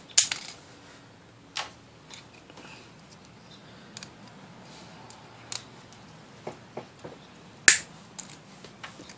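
Aquarium lights being cut apart for scrap metal, a series of sharp, isolated snips and clicks spaced a second or so apart, one louder crack near the end, against a quiet room.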